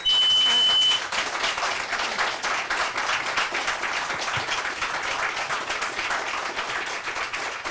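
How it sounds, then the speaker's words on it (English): Sustained applause from an audience at a school board meeting, a steady even wash of clapping that holds at one level throughout with no voices over it. "please hold your applause and be respectful"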